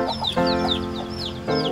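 A small chicken clucks repeatedly in short throaty bursts, close and clear over a brief stretch.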